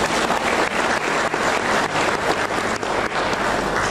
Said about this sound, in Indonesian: Berikan tepuk tangan kita untuk Tuhan.